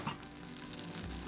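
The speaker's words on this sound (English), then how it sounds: "Melt the butter." Butter melting in a pan gives a faint, steady sizzle and crackle for a brief moment, quiet and close with no voices.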